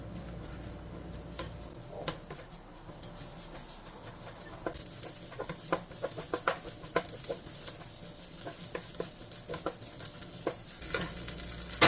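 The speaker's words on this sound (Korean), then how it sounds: "여기서 요거를 조금 잘 볶아줄게요" Korean seasoning with red chili powder stir-fried over low heat, for a dish of butterbur stems seasoned with instant ramen soup base, soft steady sizzle with scraping spoon strokes growing busier, close and quiet without speech.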